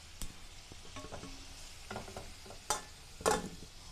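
Potatoes sizzle and fry in a pan, with a steady crackling hiss broken by several louder stirring scrapes and clatters, close by and alone.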